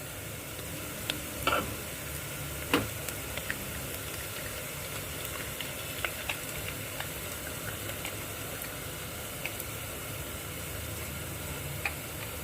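Garlic, ginger and green chilli frying in a pan over onions, giving a steady low sizzle with a few sharp ticks and spatters; no one speaks.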